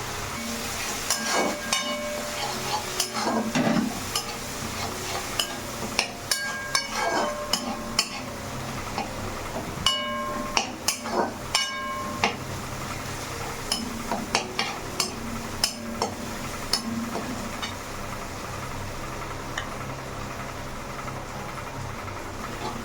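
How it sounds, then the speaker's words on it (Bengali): Ginger garlic paste with turmeric, chopped green chili and chili powder frying in a pan without water, a soft steady sizzle broken by frequent sharp clinks and scrapes of a spatula stirring against the metal. "জল ছাড়াই আদা রসুনের কাঁচা গন্ধটা কাটা পর্যন্ত একটু নেড়ে চেড়ে নিচ্ছি"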